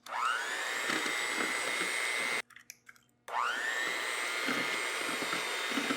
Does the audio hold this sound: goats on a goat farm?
no